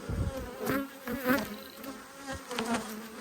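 Honey bees pour out of the roof of an opened grey hive during an Australian inspection, a dense, close swarm buzz with rising and falling whines of individual bees passing near.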